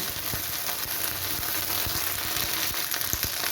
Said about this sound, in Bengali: দেখুন আমার ঢ্যাঁড়সটা অনেকটাই ভাজা হয়েছে, আরও 1 মিনিট এইভাবে ভেজে নিয়ে তারপর আমি ঢ্যাঁড়সটাকে তুলে নেব